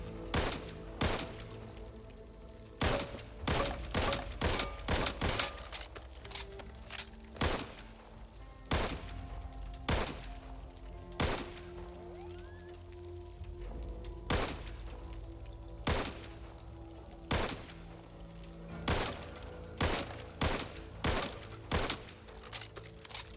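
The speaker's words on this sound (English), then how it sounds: "we've got the Ranch Rifle, which is a one-shot assault rifle" Single sharp shots from the Ranch Rifle in the zombie shooter Back 4 Blood, firing one at a time in irregular bursts, loud and close, with short quiet gaps between them.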